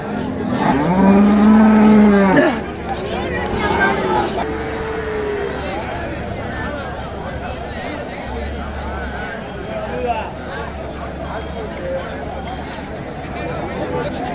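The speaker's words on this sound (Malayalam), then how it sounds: "ഇത് മണപ്പാറ നാട്ടുകാള ജോഡിയാണ്" At the Oddanchatram cattle market in Tamil Nadu, where a pair of native Manapparai bulls stands for sale, one long, loud, close lowing moo rises over the crowd chatter and people talking nearby.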